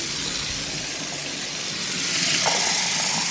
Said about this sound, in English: So I'm gonna go ahead and add some water now.